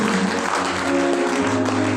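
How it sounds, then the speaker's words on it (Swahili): Church congregation clapping together during a Swahili worship service, a dense, steady wash of applause that fills the whole clip with sustained voices and tones underneath. "Patia Bwana Yesu makofi mazuri."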